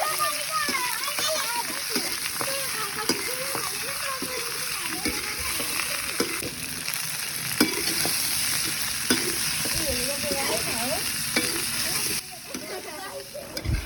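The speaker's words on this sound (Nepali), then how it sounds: "सुरुमा बेसार लाएर मजाले भुट्नु पर्यो त बेसार लाएर भुट्दैछु" Potatoes frying with turmeric in a pan for chatpate, a busy sizzle broken by repeated scraping stirs and a few splatters, close and fairly quiet, while people talk over it.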